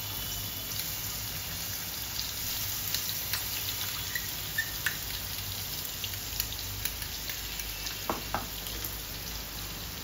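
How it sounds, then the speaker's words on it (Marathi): Ground green chilli paste dropped into hot oil sizzles steadily, a faint continuous fry with scattered small pops and crackles and a few louder spits, no voices. "त्या तेलामध्ये आपण हे जे वाटण केलंय ते टाकायचं आहे।"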